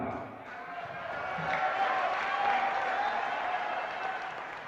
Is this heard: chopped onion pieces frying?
no